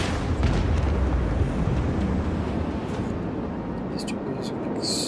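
A torpedo strike in the video game Rogue Trader bursts into a loud, rumbling explosion that swells early and slowly fades, with a voice talking over it.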